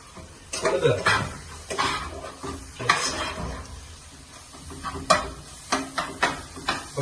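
Turmeric-coated masala for a tuna fish curry stirred and sautéed in a pan, with scraping strokes and a soft sizzle coming in bursts, close and moderately loud, with no talking.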